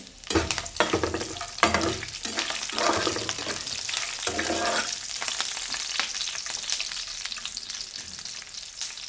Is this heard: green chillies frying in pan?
yes